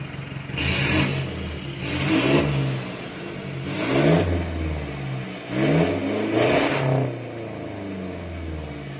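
A 2022 Toyota Revo pickup revs up repeatedly through a loud, throaty aftermarket exhaust, four surging bursts falling back to a rumbling idle between them.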